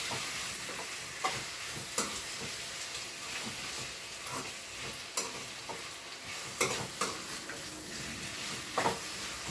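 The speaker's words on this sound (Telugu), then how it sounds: "బాగా ఈ అల్లం పేస్ట్ ముక్కలకు కలిసేటట్టు కలపండి" Chicken pieces with ginger paste sizzle steadily in a pan while a utensil stirs them, with sharp scraping clicks scattered through the hiss.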